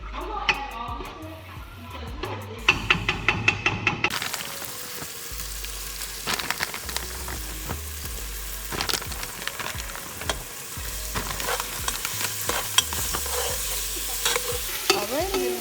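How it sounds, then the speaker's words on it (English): Cooked shrimp tipped into a pan of frying meat for Nigerian coconut rice, then stirred: a steady sizzle with scraping spoon strokes against the pan, louder bursts as the shrimp land, close and continuous with no talk. "I'm gonna add all the shrimp."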